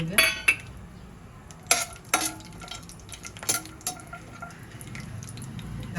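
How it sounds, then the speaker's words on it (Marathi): Ten to twelve cashews and raisins fried in three spoons of oil in a pan for navratan pulao, with gentle sizzling broken by sharp clinks and scrapes of a spoon against the metal, close up. "तेलावर आपण ड्रायफ्रूट्स परतून घेऊया"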